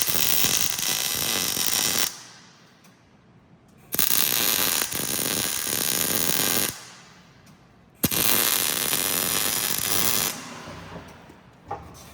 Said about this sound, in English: we're welding these 3/8 inch square rod onto the C-channel